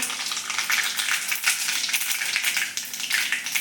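Mustard and cumin seeds crackle and sizzle steadily in hot oil, a close, bright, continuous frying hiss with small popping spikes throughout and no voices over it.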